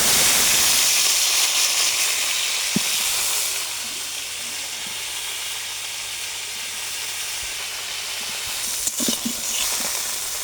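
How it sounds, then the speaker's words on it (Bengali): Cauliflower pieces frying in a wok of mustard oil after fish, a steady hissing sizzle that eases slightly partway through, with a couple of utensil knocks near the end. "তো এখন ফুলকপিটাও ভেজে নেব।"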